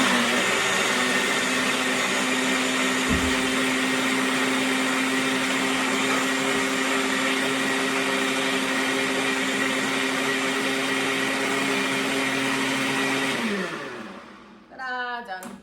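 A Ninja Detect Duo blender runs steadily, whirring loudly as it blends chickpea flour wrap batter, then winds down and stops near the end with a few clicks.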